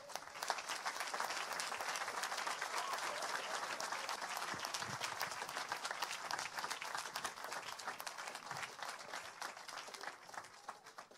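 A church congregation breaks into sustained applause during a sermon, a dense, even wash of many hands clapping that holds steady at moderate distance for the whole stretch.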